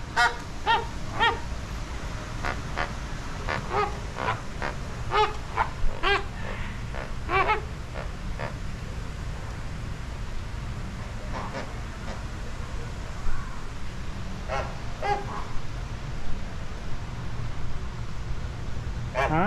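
Flamingos at an animal park, two different types, give repeated honking, goose-like calls in irregular bursts, fairly close, over a steady low outdoor rumble.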